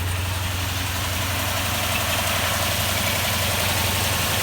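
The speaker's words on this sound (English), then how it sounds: "Still idling high at the moment until it gets warmed up a little." A 2004 Toyota Tundra engine idles high while still warming up, with a steady, loud, continuous low drone and slight vibration that stays unchanging throughout, with no voices.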